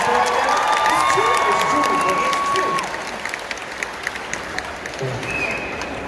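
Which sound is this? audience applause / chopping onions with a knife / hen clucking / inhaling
audience applause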